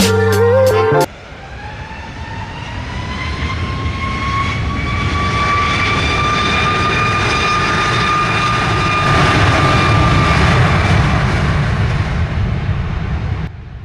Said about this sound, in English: This one is packed with the heavies and will get you very close to these big airplanes